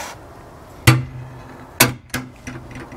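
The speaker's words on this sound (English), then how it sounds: "We have a gate latch." Several sharp metallic clicks from a steel gate latch on a 13-foot steel gate set in a cedar fence, four distinct snaps spaced irregularly over a quiet background.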